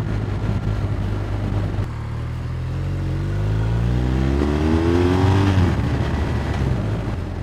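A 2023 BMW R1250R motorcycle engine on the road, a loud, close exhaust drone that drops briefly at a gear change and then climbs steadily in pitch as the bike accelerates, with wind noise underneath.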